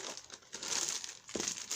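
A sheet of scrapbooking paper is crinkled and handled in short, quiet bursts of dry rustling. A louder crackle comes near the end, and no one speaks.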